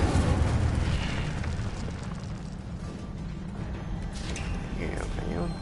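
A fire spell blast from Hogwarts Legacy roars out as a loud, broad, rumbling burst that slowly fades into a crackling wash, while a voice speaks over it.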